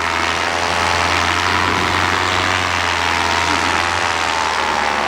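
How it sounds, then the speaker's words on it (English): A Dudek Hadron 3 paramotor engine idles during a landing: a loud, steady low drone with broadband wind rush throughout, unbroken for several seconds and alone without talk. "Engine to idle, brakes up high."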